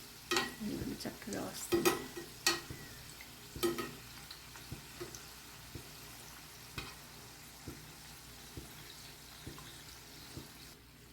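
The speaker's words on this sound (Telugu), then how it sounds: "ఇప్పుడు ఒకవైపు బాగా ఫ్రై అయింది కదా, ఇలా టర్న్ తిప్పుకోవాలి రెండో వైపుకి." Karanji pastries deep fry in oil with a soft, steady bubbling, broken by sharp clinks and scrapes of a utensil turning them, loudest early on; a voice speaks briefly.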